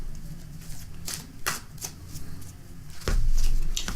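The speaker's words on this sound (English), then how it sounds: "a couple more shuffles and we're ready to begin" Tarot cards are shuffled by hand in quick riffling bursts, close up, separated by brief pauses and ending in a longer shuffle.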